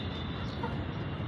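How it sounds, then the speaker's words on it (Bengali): Chickens being fed on a rooftop give soft clucks that are mixed into a dense, muffled wash of background noise, with nothing else standing out. "এই যে মুরগিগুলোকে খাবার দিচ্ছি,"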